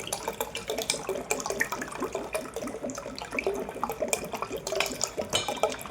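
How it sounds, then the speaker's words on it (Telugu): Water poured from a mixer jar into lemon lassi, a close splashing, gurgling pour with uneven bursts that carries on for several seconds. "మనం మిక్సీ పెట్టుకున్న జార్లో కూడా వాటర్ పోసుకొని దీంట్లోకి అయితే పోసేసుకుందాము"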